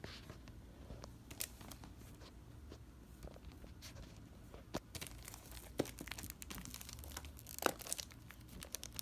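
Perfume box packaging being opened and unwrapped by hand, close-up crinkling, tearing and rustling of paper and plastic with scattered sharp crackles, quiet and intimate, no talking.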